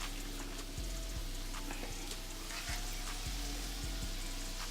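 Ribs frying in hot grease in a pot: a constant close, crackling sizzle with scattered sharp pops and spits, steady in loudness throughout and with no talk.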